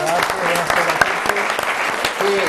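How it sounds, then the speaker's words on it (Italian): An audience at an Italian roller hockey federation event applauds Professor Sandro Morandini, a physical education teacher, with close, lively clapping under which a voice speaks. "un applauso a Sandro"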